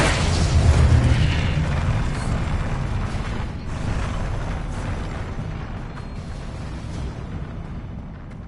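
The Confringo fire spell explodes in the Hogwarts Legacy video game, a heavy booming blast with rumbling, crackling debris that swells early and then slowly decays over several seconds, with no voices.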